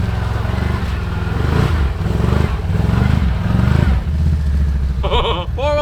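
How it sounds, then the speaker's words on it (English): A four-wheel-drive vehicle creeps across a muddy red dirt trail at a mud park, its engine rumbling loud and close with uneven throttle pulses, a brief higher warbling sound near the end. "Four-wheel drive."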